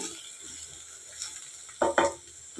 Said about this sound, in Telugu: బీరకాయలు అన్నీ వేసి దాంట్లోనే శనగపప్పు బాగా కలపాలి